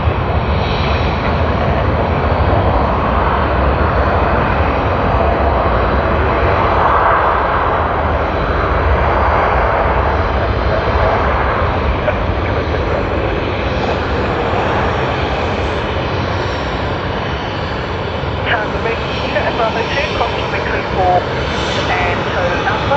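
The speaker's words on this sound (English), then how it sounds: "Hey, Jetstar 787." A Jetstar Boeing 787 jet airliner at Sydney Airport produces a loud, continuous engine roar that swells and slowly eases, with people talking over it at times.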